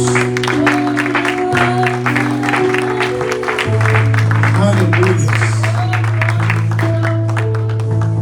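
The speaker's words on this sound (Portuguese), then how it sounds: "Aplauda ao Senhor Jesus." A church congregation claps steadily throughout, layered over sustained music and voices, with a shout of praise rising amid the applause.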